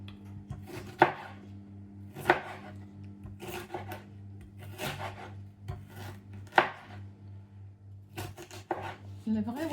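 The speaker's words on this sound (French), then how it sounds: "le chou il est bien coupé en tout petits morceaux" Cabbage is chopped into small pieces with a knife on a board, a series of crisp, separate thuds at an uneven, unhurried pace, close and fairly quiet over a steady low kitchen hum.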